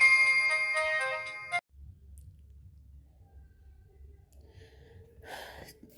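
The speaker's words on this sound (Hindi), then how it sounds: "फ़ोन की घंटी आप लोगों को सुनाई दे देगी" A phone ringtone plays a bright, repeating electronic melody for about a second and a half, then cuts off, leaving faint low background noise.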